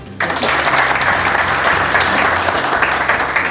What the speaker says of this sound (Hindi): कृपया करके खुद के लिए स्वयं के लिए अगर ताली बजाएं